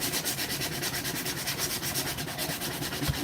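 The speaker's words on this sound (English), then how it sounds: "How long have I been sanding this wood?" Wood is sanded by hand in quick, rhythmic back-and-forth strokes, a continuous gritty rasping close by with no voices.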